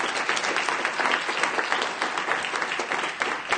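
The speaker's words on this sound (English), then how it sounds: "So I just want to give you personally a big round of applause for everything that you've given to the community." A conference audience at DrupalCon Barcelona 2015 gives a big round of applause, dense and even clapping that stays loud and continuous throughout.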